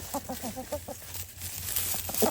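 Backyard chickens cluck in short repeated bursts close by, with a rooster nearby among hens scratching in the yard, the calls clustering early and again at the end over a steady outdoor background.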